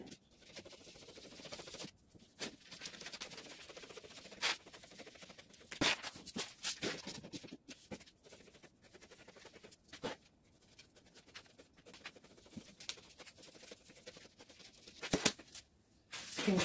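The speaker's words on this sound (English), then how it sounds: "I'll go ahead and cut my pattern now." Scissors snip through a paper sewing pattern for a basic skirt, with faint, irregular cuts and rustles heard up close in a quiet room.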